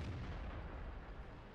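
A tank's cannon fires in the online game World of Tanks, a deep booming low rumble that fills the whole short moment, loud and dense, with no talking.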